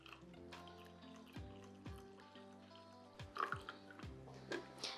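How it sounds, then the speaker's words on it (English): Brewed coffee is poured from a cafetiere into a mug, a faint liquid stream with tonal, rising filling sounds and a few soft drips and clinks, close and quiet with no talking. "just press down gently on the cafetiere and then pour it into your mug or heat-proof glass"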